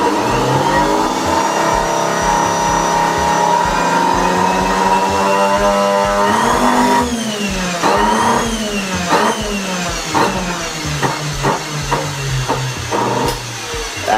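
A faulty Samsung SC4590 vacuum cleaner motor running at higher speed, a loud, close, harmonic whine that shifts pitch midway and then pulses and wavers irregularly.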